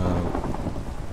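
Deep, continuous thunder rumbling from a lightning strike in the Minecraft video game, loud and steady with rain-like hiss layered over it and no voices.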